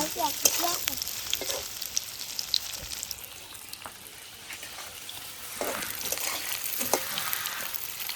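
Steady sizzling of paneer pieces frying in hot oil in a wok, with occasional light scrapes and crackles; no talking.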